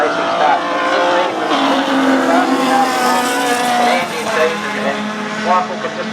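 Racing cars at the 2013 NZ Grand Prix meeting roar loudly past, with engine notes rising and falling and a hint of tyre squeal, while a commentator talks over the noise.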